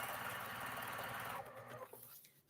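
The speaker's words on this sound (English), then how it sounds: "You just have fun and just sew." A sewing machine stitches random fabric crumbs down into a quilt block, a loud fast continuous whir close by that slows and stops in the final second, with no talk.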